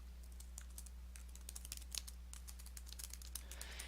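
Keys clatter on a computer keyboard in short uneven bursts as someone types into a OneNote 2013 notebook. The typing is fairly faint and steady over a low constant hum, and no one speaks.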